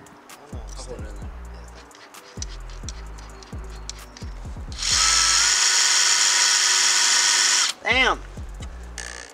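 A power drill drives screws into a boat during a modification, sounding as short repeated whirring bursts followed by a long sustained loud run, with people talking over the work.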